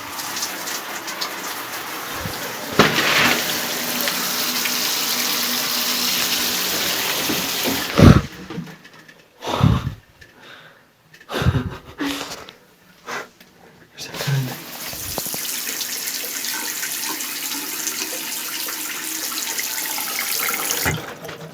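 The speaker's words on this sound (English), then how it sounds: "The fact that the water turns on by itself is strange enough." A tap runs steadily with a loud rushing hiss, turning on by itself, cuts off briefly while someone speaks, then gushes again close by.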